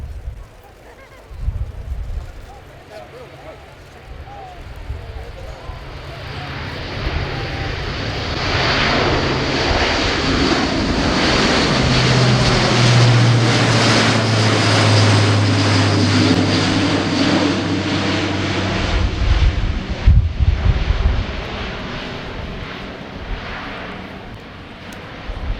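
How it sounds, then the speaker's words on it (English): An Airbus A400M military transport flies past at an airshow, its propeller engines swelling from a distant drone to a loud, close roar before fading away, with crowd noise underneath. "our special to the 50th anniversary of Airbus, the mighty A400M."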